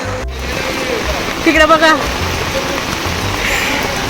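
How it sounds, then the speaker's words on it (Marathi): Heavy rain pours steadily outdoors at a roadside vada pav stall, making a dense, continuous hiss. A person briefly speaks over it. "खूप जोरात पाऊस पडतो आणि आम्ही वडापाव घेण्यासाठी इथे थांबलोय भर पावसात."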